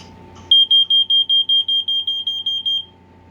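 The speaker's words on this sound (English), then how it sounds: "we have a First Alert, old First Alert SA90 LT smoke alarm, and we'll go and test it." An old First Alert SA90 LT smoke alarm under test gives a string of about eleven loud, shrill, evenly spaced beeps, close by, then falls silent, with a faint background hum.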